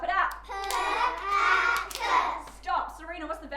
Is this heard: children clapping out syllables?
yes